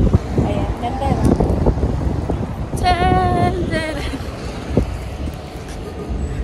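Strong wind at a seaside viewpoint in Tenerife buffets the microphone with steady low rumbling gusts, while a voice talks over it and a brief whistling tone rises midway.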